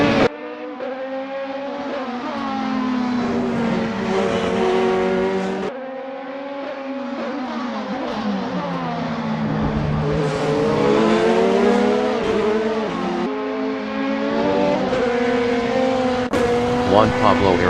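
Race car engines from a BMW M4 DTM racing video game, as a car exits the pits during a championship race, droning steadily with rising and falling pitch across the whole stretch while a voice talks over it.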